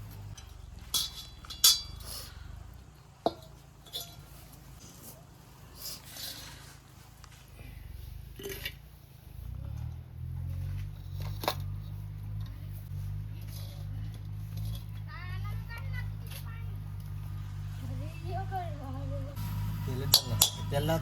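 Clinks of a pan and dishes being handled during sesame laddoo making with grated jaggery in a home kitchen, several sharp chinks early on, then a steady low rumble from about ten seconds with scattered light clatter.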